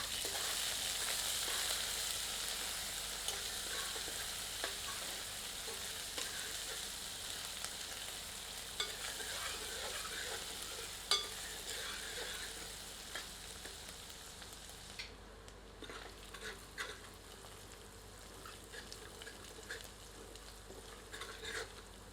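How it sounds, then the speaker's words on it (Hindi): Crushed ginger, garlic and green chili sizzle and crackle steadily in hot oil, with occasional stirring scrapes in the pan and no voices. "अब इसमें कूटे हुए अदरक, लहसुन और हरी मिर्च सम्मिलित करते हैं। मिलाकर 1 मिनट भूनते हैं।"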